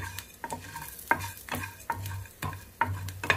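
A spoon stirs coriander seeds roasting in a dry pan, scraping in a rhythmic series of distinct strokes about every half second over a faint crackle.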